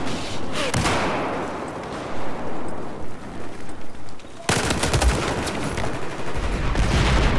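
Dense in-game gunfire from Battlefield 4, a steady rattle of automatic shots with loud bursts and a sharp jump in intensity midway, continuing busy and close to the end; no talk over it.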